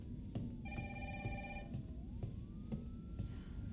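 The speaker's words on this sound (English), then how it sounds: "Okay, phone's ringing." Telephone ringing in the video game Resident Evil 3, a repeated electronic bell tone in a short burst of rings over a low background hum and a faint siren-like whine.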